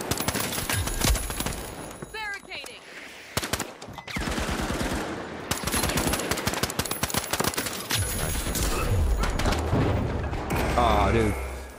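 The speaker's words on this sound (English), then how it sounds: "nice revolver shot" Revolver gunshots and other weapon fire in the video game The Finals crack out in sharp, loud bursts amid explosions and game effects, with a voice talking over parts of the action.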